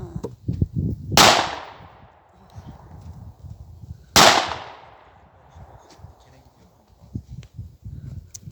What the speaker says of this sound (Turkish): silah atıyorlar.